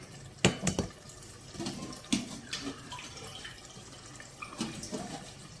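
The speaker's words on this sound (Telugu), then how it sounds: "మనం ఇందులోకి వాటర్ పోసుకుందాం." Water is poured into a clay pot of tamarind-leaf mutton curry, giving several short splashing pours and clunks with quiet gaps between them. No one talks.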